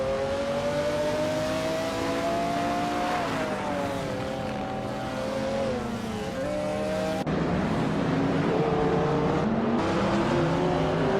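A 2004 Koenigsegg C8S and rival race cars in a racing video game, a loud, steady engine drone with pitch rising and shifting through gear changes, continuous and close throughout.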